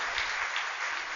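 Audience applause in a hall during a religious gathering, a steady dense wash of clapping heard alone for a brief moment without talk.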